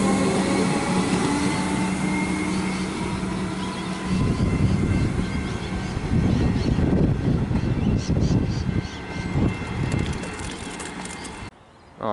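A high capacity train pulls out of a station with a rumbling, clattering roar that builds and rolls on steadily, loud and close, before dropping away abruptly at the end.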